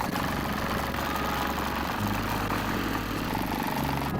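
An old diesel tractor engine, abandoned for years and in poor condition, runs at a rough idle with a steady, close, low rumble and vibration. There is no talking.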